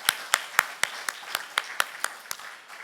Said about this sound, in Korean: 우리 평화한국의 우리 스태프들 모든 섬김이들에게 감사의 박수 했으면 좋겠습니다